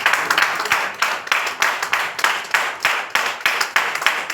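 A church congregation clapping in unison: loud, close, evenly spaced claps in a steady rhythm of about three per second, with no talk.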